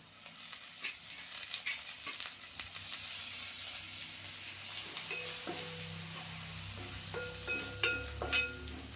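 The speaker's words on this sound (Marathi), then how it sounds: "आणि थोडी कोथिंबीर पण टाकते फोडणीमध्ये" Coriander leaves hitting hot oil for the tempering of a spicy Malvani-style village crab curry, giving a steady, close frying sizzle with scattered clinks and no talking.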